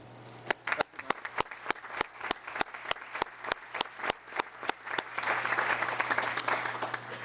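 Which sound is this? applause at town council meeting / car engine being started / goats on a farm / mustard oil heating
applause at town council meeting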